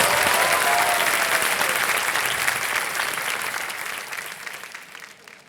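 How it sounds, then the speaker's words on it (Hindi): Studio audience at Kaun Banega Crorepati breaks into loud, sustained applause, a thick wash of many hands clapping that holds steady and then gradually fades away over several seconds. "तालियां बज जाए उनके लिए जरा"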